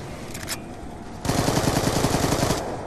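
An automatic gun in an undead combat video game fires a steady rapid burst of about a dozen loud shots after a short quieter moment, and no one speaks.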